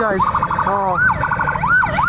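An ambulance siren wails loudly and continuously, its rising and falling tone sweeping up and down while the vehicle is held back by an officials' convoy; a voice speaks briefly over it.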